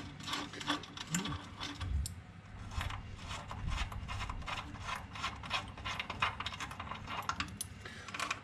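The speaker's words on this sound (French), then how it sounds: "je remets en place la pompe directement, donc avec les trois boulons qui sont là" A hand ratchet clicks in rapid, steady bursts, tightening the three bolts that hold a power steering pump on a Renault Kangoo 1.5 dCi during an electric power steering replacement, close and continuous with no talk.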